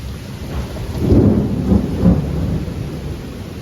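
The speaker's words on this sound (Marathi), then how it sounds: "खूप जास्त विजा आणि पाऊस आहे" Heavy rain pours steadily while deep thunder rumbles and swells twice, loud and close, with no voices.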